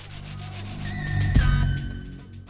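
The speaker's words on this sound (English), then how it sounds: "taking a speed file with some 36 grit sandpaper to the roof" A speed file loaded with 36 grit sandpaper rubbing across a car roof being reshaped for a Pajero Evolution carbon fiber roof mold, one steady close abrasive stroke that swells in the middle and then eases off.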